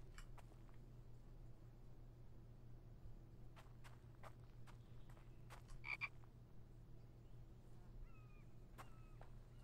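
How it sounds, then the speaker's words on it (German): A frog croaks a few times in a video game, short faint calls set against a constant low ambient drone, with soft footstep-like thuds scattered throughout. "Frosch."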